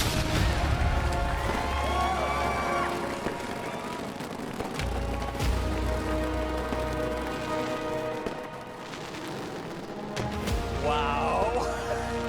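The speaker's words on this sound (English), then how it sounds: "Cue the fireworks show!" Fireworks show explosions go off in dense, loud bursts with crackling and booming throughout, barely easing toward the end.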